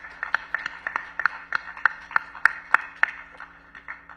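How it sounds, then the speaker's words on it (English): A few people clap in a sparse, regular rhythm at a conference in Uganda as a general takes the floor, with distinct sharp claps over a steady electrical hum. "Let's welcome General with a round of applause."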